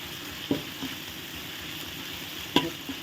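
Thai curry paste fries in coconut milk for a chicken and pickled bamboo shoot curry, a quiet steady sizzle broken by a few sharp clicks of a utensil against the pot.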